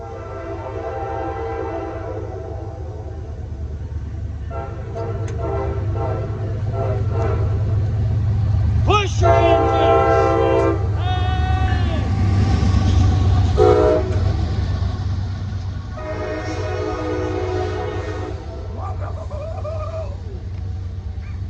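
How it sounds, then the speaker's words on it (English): A Norfolk Southern freight train passes close by in McDowell County, West Virginia, with a loud continuous rumble of rail cars and several long horn blasts sounding in bursts over about twenty seconds. "Okay, guys, we got a train coming this way."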